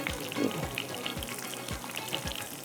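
Quiet, steady sizzling of a tempering of spices in hot oil crackles throughout, with soft scattered pops and light stirring.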